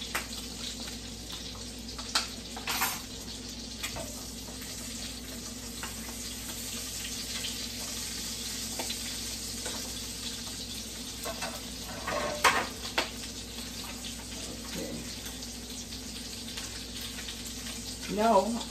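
Ingredients for Italian spaghetti with sausage being stirred together in a pan: a continuous low sizzle with scattered scraping and knocking strokes, louder bursts near the middle and end, close by and without talk.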